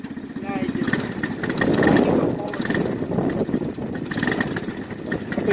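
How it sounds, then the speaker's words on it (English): Small engine of a 2021 Azusa 4x4 OHV mini jeep idling with a steady rapid putter, close and moderately loud, while people talk over it. "I think you have the engine to idle."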